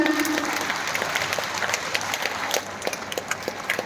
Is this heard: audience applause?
yes